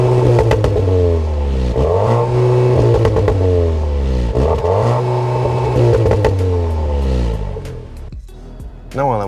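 CUPRA Leon Sportstourer 310bhp hot wagon engine and exhaust revving up and down in repeated loud rising and falling sweeps, with clatter toward the end, close by.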